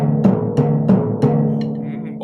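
A voice imitates orchestral timpani kettle drums with four deep, booming sung beats in a steady rhythm, the last one trailing off.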